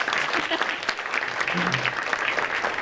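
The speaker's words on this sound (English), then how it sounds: "Let's give him a big round of applause." A crowd applauds steadily throughout at a charity check presentation, a dense wash of clapping with a few voices faintly audible underneath.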